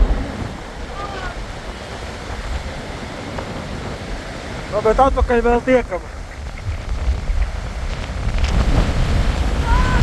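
Strong storm wind roars at the Jūrmala seaside under an orange storm warning, with surf crashing continuously underneath. Someone speaks briefly over the loud, steady rush.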